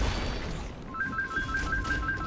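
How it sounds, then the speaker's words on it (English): A mobile phone ringtone sounds indoors, a repeating electronic melody of short bright tones that starts after a moment and carries on steadily, moderately loud over a faint background hum. "that's my phone going off"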